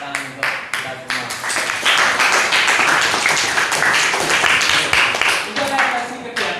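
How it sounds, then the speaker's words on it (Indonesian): A junior high school class at SMPN 7 Nganjuk breaks into applause. Dense, quick clapping from many hands swells and holds for several seconds, with voices mixed in. "Berikan tepuk tangan untuk kita semua."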